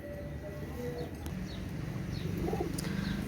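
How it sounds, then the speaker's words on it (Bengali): Royal teddy pigeons coo softly nearby in short repeated calls over a low background hum, with a few faint chirps mixed in. "একটা রয়্যাল টেডি কবুতর"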